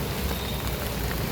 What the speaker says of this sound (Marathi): पाऊस एवढा आहे ना की थांबतच नाही